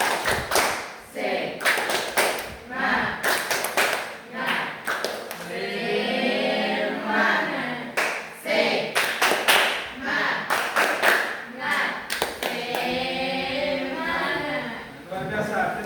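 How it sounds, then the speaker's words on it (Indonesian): Classroom of students performs rhythmic spirit clapping, sharp clustered bursts of claps in a patterned beat alternating with stretches of chanting voices, close and fairly loud. "Tepuk semangat"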